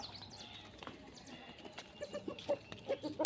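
Hens cluck and cackle in short bursts near a farmyard, with a few sharper calls toward the end over a faint background hum.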